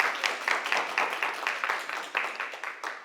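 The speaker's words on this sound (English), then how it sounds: "Everybody give my mom a hand clap, will you?" A conference audience applauds the speaker's mother with a short round of clapping, moderately loud and distinctly rhythmic, individual claps audible as a steady patter that eases off over about three seconds.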